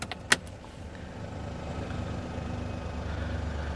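A Perodua car engine idles with an idle control fault, a low steady rumble that slowly builds in level, preceded by a sharp click near the start, no voices.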